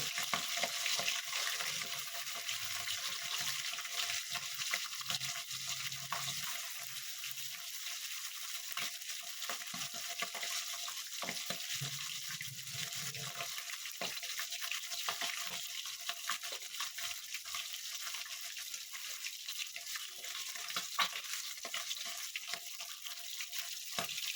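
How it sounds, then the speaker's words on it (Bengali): Small tangra fish fry in a pan, making a continuous fine hissing sizzle with scattered crackles, even and fairly quiet throughout with no voices. "আমি অল্প অল্প করে মাছটা ভাজছি"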